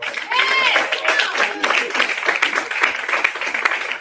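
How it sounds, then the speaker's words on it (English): Audience applause at a motivational talk, a burst of crowd clapping that runs throughout, mixed with a voice and some cheering over the top. "give me a round of applause"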